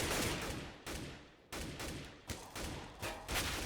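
Rapid AK rifle bursts during a CS:GO esports match on Dust2, several sharp cracking volleys in quick succession with short gaps, loud and close, no talk over them.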